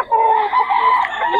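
A fighting rooster at a gamefowl market in Bocaue crows once, loud and close, in a single sustained call.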